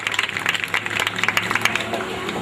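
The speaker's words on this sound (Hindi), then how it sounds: "सभी तालियां बजाएंगे" A crowd at a devotional anniversary celebration claps steadily in a rapid, uneven patter that continues throughout, mixed with a faint murmur of voices.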